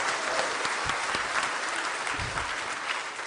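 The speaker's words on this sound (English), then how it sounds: "Can we all give them a rousing applause?" Rousing applause from the audience at a national summit on ending gender-based violence, marking a signing: dense, steady clapping from many hands, loud and continuous throughout.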